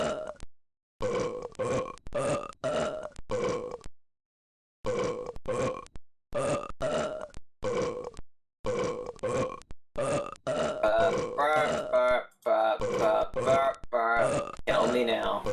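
Cartoon burps from the Grossology video game's Simon-style memory puzzle: a rhythmic series of short, loud belches in quick groups with brief gaps, growing denser and overlapping toward the end.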